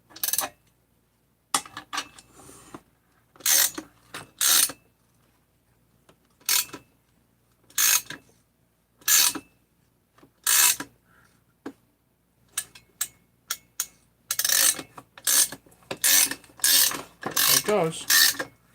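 A hand crank mechanism turning in repeated bursts of ratcheting, clicking mechanical noise with short quiet gaps between them, fairly close and with no talk.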